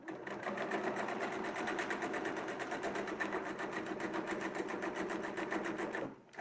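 A quilting machine stitches thicker fabric with a steady, rapid mechanical chatter that runs for about six seconds and then stops abruptly, followed by a faint clunk. No one speaks.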